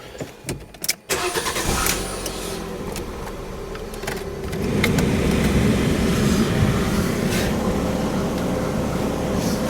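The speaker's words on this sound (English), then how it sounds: "let's start the engine" A Fiat 500 Sport cranks with a few short stuttering bursts, then fires and settles into a steady, close idle that rises and holds, with no talk.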